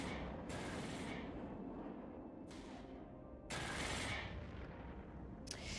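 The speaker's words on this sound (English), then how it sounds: "We're going to lose him soon as well in a barrage of torpedo fire." Rapid, heavy weapon fire from a torpedo barrage in an Eve Online space battle, a dense continuous rumble broken by several loud booming bursts, with no talk over it.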